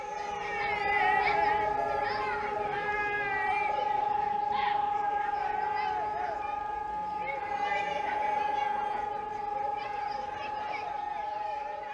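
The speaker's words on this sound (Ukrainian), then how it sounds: "під час знімання оголосили повітряну тривогу" An air raid alert siren sounds as a long, steady tone, holding at an even level throughout while voices talk over it.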